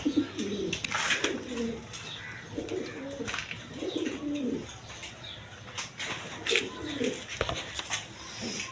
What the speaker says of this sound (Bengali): এখানে এক পেয়ার কবুতর আছে দেখেন